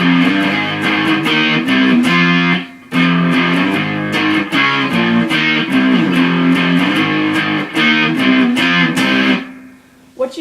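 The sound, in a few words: distorted electric guitar playing power chords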